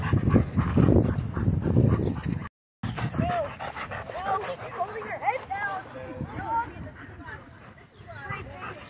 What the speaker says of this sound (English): these two dogs are like trying to submit each other